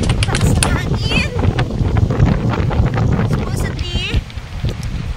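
Strong wind on the coast at Baler, Aurora, Philippines buffets the microphone with loud, gusty rumbling while a person speaks briefly over it.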